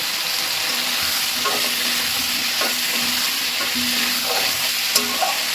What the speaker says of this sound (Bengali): সেই কারণে একসঙ্গে কষাচ্ছি, অল্প তেলে রান্নাটা হবে